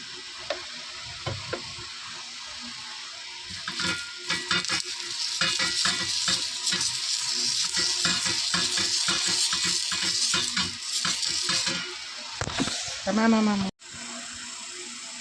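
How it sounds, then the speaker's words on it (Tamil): Dosa batter fries on a hot pan, making a crackling sizzle that swells and holds steady. A short spoken voice rises briefly near the end. "மூணாவது தோசை ரெடி ஆகிட்டு இருக்கு"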